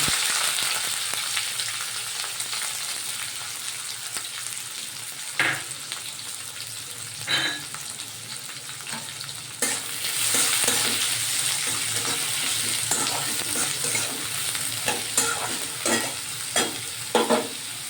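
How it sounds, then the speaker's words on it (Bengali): Chopped onion, with sugar added, fries and is stirred in a pan while cooking a chicken curry: a steady, close sizzle with occasional scraping stirs and clatters on top. "এবার পেঁয়াজটা আমি ভাজতে থাকবো যতক্ষণ না একটু বাদামি"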